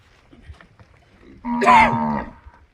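A single loud, close Gir cow moo lasting under a second, rising then falling, after a stretch of quiet low background noise, at Havinal, Vijayapura, Karnataka.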